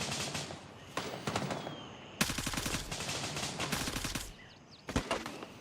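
Crossfire in Gray Zone Warfare: bursts of automatic and single gunshots crackle from several directions, some close and loud, others more distant, with short pauses between volleys.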